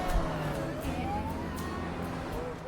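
Police siren from the GTA 6 trailer, a rising and falling wail that sweeps steadily through the whole stretch amid a dense background of other game sound.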